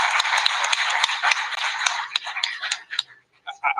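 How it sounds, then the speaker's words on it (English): Applause breaks out for the fire chief at a municipal board meeting, a dense crowd clatter of clapping that thins into scattered claps before fading. "Let's give him a round of applause"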